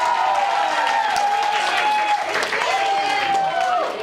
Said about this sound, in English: We'll give him a warm round of applause.